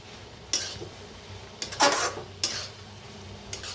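A spoon scraping through cooked fenugreek greens with crushed roasted peanuts in a pan: a few sharp metallic scrapes and clinks in an uneven sequence over a faint, steady background hiss, with no talking.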